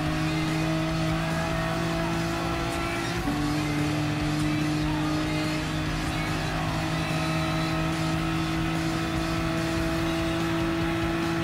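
Gran Turismo Sport car engine, with a seven-speed transmission, holding a loud sustained drone near 170, with a brief dip and shift partway through. The engine runs alone and fills the whole stretch.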